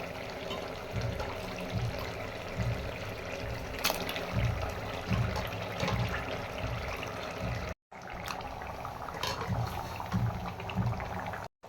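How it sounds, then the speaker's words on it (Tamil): Water poured into a pan of curry as it cooks, a steady liquid rush and bubbling sizzle that runs continuously with brief gaps, close and moderately loud. "கறி வேகிற அளவுக்கு தேவையான அளவுக்கு தண்ணி நம்ம சேர்த்துக்கிறோம்"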